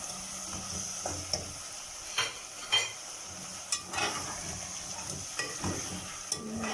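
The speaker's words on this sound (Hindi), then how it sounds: "दही को भी थोड़ा सा फ्राई कर लेंगे" Yogurt frying in a pan for aloo matar sabzi, a continuous close sizzle broken by repeated scraping stirs of a spoon against the pan, no voices.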